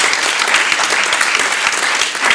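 An audience at a French law colloquium on lawyers as defenders or investigators breaks into warm, steady applause, close and full, with scattered individual claps standing out.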